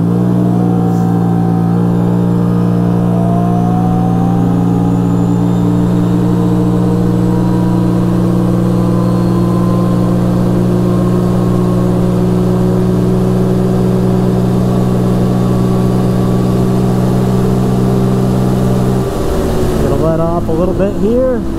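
A Can-Am Renegade 800 ATV in two-wheel drive, high range, pulls hard from close by, its engine note climbing steadily and holding a loud drone toward top speed, with voices present and wind noise near the end.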